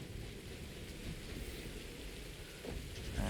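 Steady rain falls in the video game Satisfactory, a soft continuous hiss of drops with a low rumble beneath, faint and unbroken throughout.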